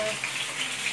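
Chicken frying in a pan gives a short, soft, steady sizzle and crackle, heard close and quiet with no voices.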